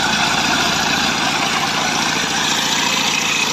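A self-starting two-cylinder diesel engine idles nearby with a steady, dense rumble and a fast, even low throb running throughout, with no voices.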